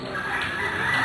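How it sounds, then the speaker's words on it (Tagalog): Chickens cluck and crow continuously in a dense flock, a busy layered chorus with no pauses. "Ayan yung ating mga manok."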